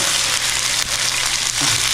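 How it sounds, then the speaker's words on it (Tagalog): Food crackles and sizzles steadily in a hot pan, a loud, continuous frying hiss close by with no voices. "So, nagpiprito na nga po pala ako."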